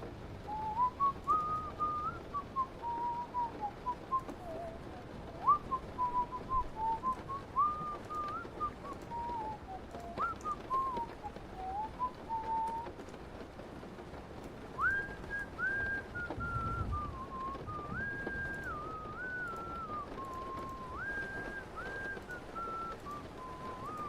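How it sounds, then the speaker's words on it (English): A person whistles alone, a clear wavering melody of rising and falling notes, with short steadier stepped phrases later, over a quiet room background. "I gotta work on my whistling."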